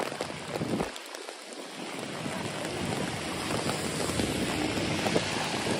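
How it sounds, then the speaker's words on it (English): Strong gusting wind buffets a microphone on a New York City street as a loud, continuous roar of rushing air that rises and stays harsh throughout. "Oh, that is brutal wind."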